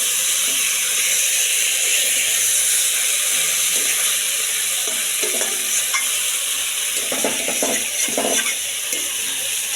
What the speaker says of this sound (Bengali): এগুলো দিয়ে হালকা একটু সামান্য একটু ভাজবো, কষাবো